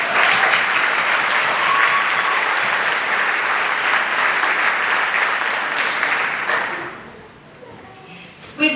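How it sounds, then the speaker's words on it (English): A pageant audience at a Miss Salem competition gives a big round of applause for the sponsors, sustained loud clapping that fades out near the end and leaves quieter room sound. "Please join me in recognizing them with a big round of applause."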